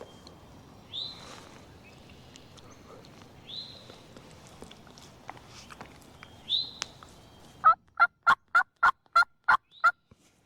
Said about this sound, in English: There's a gobbler on that far ridge, and he just fired up.